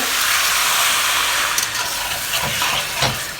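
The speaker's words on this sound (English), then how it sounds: "I'm going to add in a little bit of water and partly steam and boil them" Loud, steady hiss of steam as water is added to a hot pan of pork, with a few brief sputters and crackles near the end.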